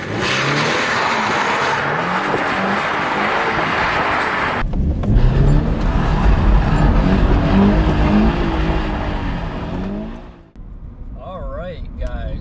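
A 2013 Subaru BRZ's engine runs loud and steady, then revs through rising pulls with wind noise, cutting off near the end as a voice speaks.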